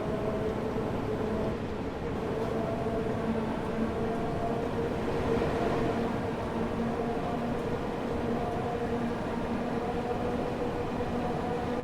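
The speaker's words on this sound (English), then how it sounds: "It's got a nice growl of the old DC traction motors" In Train Sim World 5, a 1972 stock Underground tube train's old DC traction motors growl steadily underneath a constant rushing rail noise, with the motor tone holding at a moderate level throughout.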